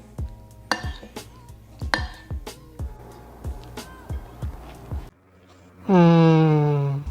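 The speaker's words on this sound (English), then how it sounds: "I like to mix in all my garnishes" Spoon clinking against a bowl while garnishes are stirred into black bean soup, a series of sharp metallic taps in an irregular rhythm, close and clear, then a brief pause followed by a tonal scrape.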